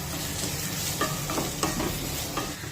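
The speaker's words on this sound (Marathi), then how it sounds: "कांद्याला सतत परतत राहायचं, म्हणजे मग तो सगळीकडून व्यवस्थित भाजला जातो" Chopped onion and curry leaves sautéing in hot oil for matki usal, a continuous close sizzle broken by several soft scraping stirs of a spatula against the pan, with no one speaking.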